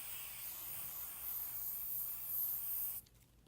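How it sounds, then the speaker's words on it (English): Adhesive spray hisses steadily from an aerosol can onto a playing card, a close, continuous airy rush lasting about three seconds before cutting off abruptly. "you're going to take your second card and you're going to spray it first, or glue it,"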